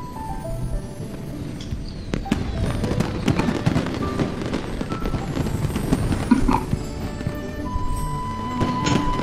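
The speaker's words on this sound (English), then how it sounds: "GG. Fireworks. Happy Lantern Rite." Fireworks at the Lantern Rite festival in Genshin Impact, a dense string of pops and crackles bursting repeatedly over festive background music, fairly loud and continuous.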